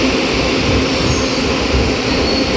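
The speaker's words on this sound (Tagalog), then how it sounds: "First time natin sumakay ng LRT mga idol." Inside a Manila LRT light rail car during a ride, a steady loud rumble of wheels on track with a high metallic squeal running through, with no talking.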